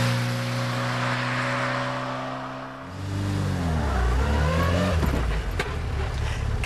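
An old Fiat Abarth's small engine idles with a steady buzzing drone, then revs and pulls away, its pitch rising and swooping through gear changes, loud and close with no talk.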